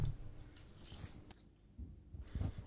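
A few crisp bites into cold-grown lettuce with crunchy chewing noises, close to the microphone, with a brief quiet pause in the middle.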